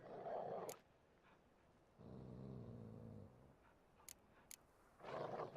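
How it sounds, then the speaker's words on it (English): Dogs in the video game The Witcher 3 growl low and rough in short bursts separated by quiet gaps, with a few small clicks between them. "Just beware of the dogs."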